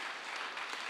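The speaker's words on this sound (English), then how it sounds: "you should clap for that" A brief, dense burst of audience applause at a public talk in the United States, a continuous wash of many hands clapping, fairly faint and unbroken for under a second.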